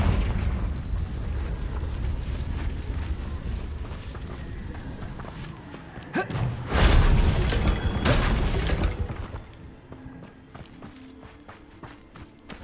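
A Confringo blasting spell in Hogwarts Legacy goes off as a loud, booming burst about midway through, with hurried footsteps and game rumble before it and fading debris clatter after.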